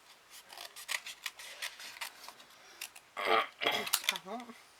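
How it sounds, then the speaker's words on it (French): Scissors snipping through paper while making a mirror-effect Easter card, a string of short, close crisp cuts in an irregular rhythm, followed by a few louder rasping strokes near the end. "je prends mes ciseaux pour le papier. Et puis, bah, on découpe"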